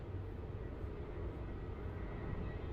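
A Boeing 737-800 departing Melbourne Airport, a steady, distant low jet roar that holds without breaks.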